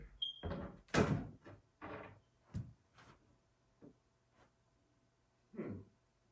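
A door at the top of an arcade cabinet is opened, giving a string of close, dry knocks, clicks and rattles that are loudest at the start and quieter toward the end.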